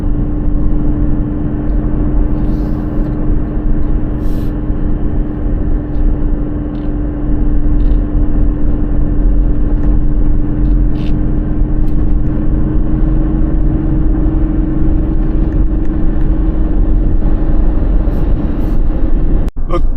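A Toyota Landcruiser 300 series cruising at the speed limit while towing a heavy 3-tonne caravan, heard from inside as a loud, constant engine and road drone with a steady low hum throughout.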